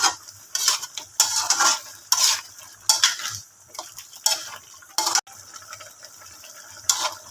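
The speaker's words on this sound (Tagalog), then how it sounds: "halo-haloin lang natin" Pork and chicken humba with beef cubes is stirred in a pan, a series of close scraping, clattering utensil strokes in uneven bursts over a soft simmer, with no talk.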